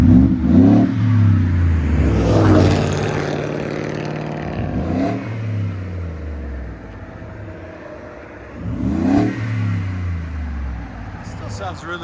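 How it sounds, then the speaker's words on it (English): A 2018 Ford F-150's 5.0L Coyote V8 with a Borla straight-through muffler revs up three times in deep, loud swells, settling to a low idle between them while someone talks nearby. "I think it still sounds good though, because that BORLA is still a straight through muffler."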